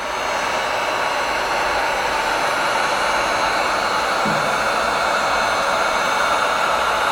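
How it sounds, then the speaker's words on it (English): A heat gun pours out a loud, steady blowing hiss while heating window tint film on a car's driver-side window, continuous and unbroken throughout with no talk. "never keep your heat gun in one angle for too long"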